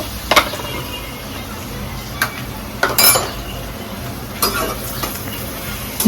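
Curry leaves are dropped into a hot pan and stirred, giving soft sizzling under sharp metallic clinks of a spoon against the pan, a few distinct scrapes spaced several seconds apart.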